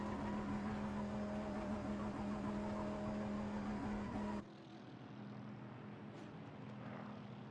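A race car in a sim racing game at Spa circles through donuts, its engine a steady loud drone with a strong low tone that abruptly drops to a quieter, rougher rumble partway through.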